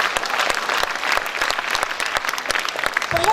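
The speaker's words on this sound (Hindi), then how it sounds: "इस बात पर एक बार जोरदार तालियां बजाएं।" Vigorous applause from the crowd at a kavi sammelan poetry gathering at THDC India Ltd, many hands clapping loudly with sharp individual claps standing out through the whole burst.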